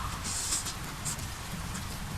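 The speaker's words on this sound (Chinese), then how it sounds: "半夜户外，降温又下雨。" Rain falls steadily at night in an outdoor camping spot in the wild, a constant, even hiss of drops with occasional brighter patters, no voices.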